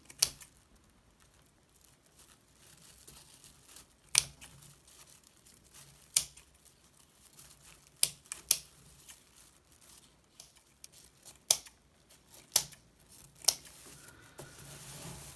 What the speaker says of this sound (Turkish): Önce ilmekleri kesiyorum.